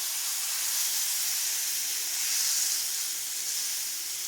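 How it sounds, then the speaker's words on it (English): A beef chuck roast sears in a hot pan, giving off a steady, bright hiss and sizzle that stays even and close throughout with no talking. "So we're gonna try and sear it on each side."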